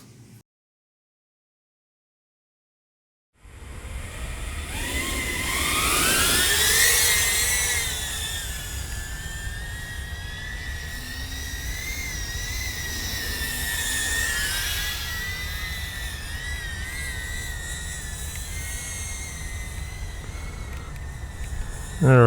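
An iFlight Alpha A85 HD FPV drone flies around, its small motors making a buzzing, shifting whine that climbs and falls with throttle changes, fairly faint and continuous after a brief silent start.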